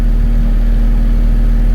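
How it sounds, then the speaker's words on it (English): A 1990 Honda CRX engine idling at around 1100 rpm during restoration, a loud, steady, close-up low hum with a constant drone and no voices. "We're idling, going back down"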